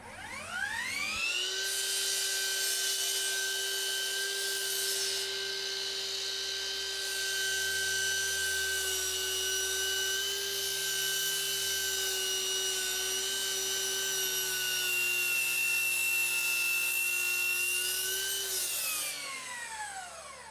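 A Metabo HPT 12-inch 36V cordless miter saw spins up and slices through wood in one long cut, a steady high whine lasting nearly twenty seconds before winding down, loud and close with no talk.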